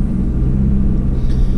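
A car cruising toward New York City is heard from inside the cabin as a low, steady road rumble and engine drone, even and close throughout with no speech.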